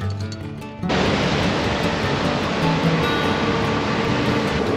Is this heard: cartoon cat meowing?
no